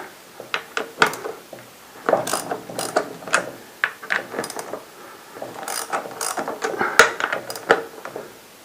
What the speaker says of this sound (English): While we still have the chain on, we want to loosen up all of our nuts.